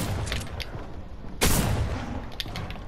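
A single sharp, loud shotgun blast rings out in a Fortnite match, standing out against a busy, noisy game background with fainter gunfire around it.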